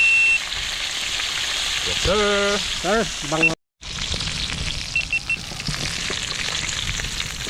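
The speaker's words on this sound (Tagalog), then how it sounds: "Kaya prito muna tayo." Tilapia fish frying in a pan, a steady sizzle running throughout with brief beeps and a short silent gap midway, while people talk over it.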